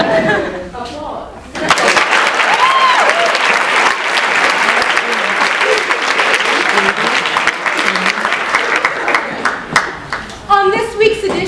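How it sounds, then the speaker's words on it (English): A student audience at a Black Monologues performance at the University of Virginia breaks into loud, sustained clapping with some cheering, brief talk heard just before it starts and as it trails off. "Applause."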